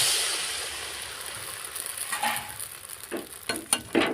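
Rice-flour batter for shoru chakli pitha poured into a hot, lightly oiled wok, a soft hiss fading in the first seconds, then scraping and clinking as the batter is spread around the pan.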